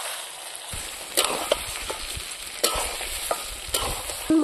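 Mutton pieces fry and are stirred in oil in a pan for a Bengali mutton curry: a continuous sizzle broken by repeated scraping stirs and knocks of the spoon, close by, with no voices.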